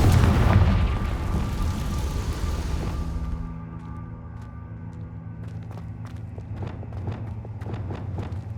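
A booming fire-spell explosion in the Hogwarts Legacy video game, loud at first and then fading over about three seconds into a quieter scene with scattered light taps.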